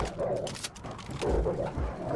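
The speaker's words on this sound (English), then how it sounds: "And you bring the dog into this area." A dog enemy in Call of Duty: Black Ops Cold War Zombies, on the Die Machine map, gives short growls and whimpers over game sounds and low rumbling effects.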